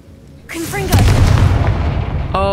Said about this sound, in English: Girl loves her explosions